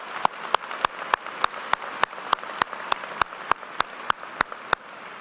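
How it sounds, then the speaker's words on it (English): Applause at a spring business school commencement ceremony comes through as a steady series of sharp, evenly spaced claps, about three per second, over a faint background hum with no talking. "Please join me in congratulating them with a round of applause."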